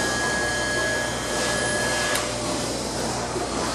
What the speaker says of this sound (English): this here is the standard air motor with no dampening.